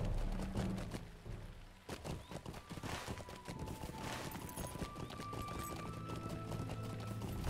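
Horse hooves gallop in the online game LOTRO (The Lord of the Rings Online), a steady rapid clip-clop that keeps going the whole time amid dense game ambience.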